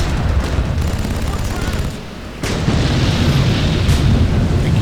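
A bombard artillery shot in a World War II strategy game: booming bursts of gunfire and explosions over a dense, loud rumble, with a sharp impact midway.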